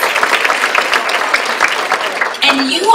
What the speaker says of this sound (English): let's give this whole event a big round of applause